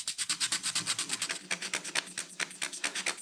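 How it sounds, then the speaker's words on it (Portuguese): Rhythmic back-and-forth strokes of 100-grit sandpaper rubbed by hand over the wooden surface of a vintage bar cabinet, stripping remnants of old finish; close, evenly paced rasping swipes, roughly four or five per second, with no talking. "passo a lixar à mão com uma lixa de 100 grãos para eliminar qualquer resíduo restante do antigo acabamento"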